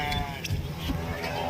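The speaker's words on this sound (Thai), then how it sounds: "น้องแกะ" Sheep bleat in a Thai farm pen, several wavering calls close by over a steady background hum, with a voice faintly present.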